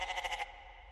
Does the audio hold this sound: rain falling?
no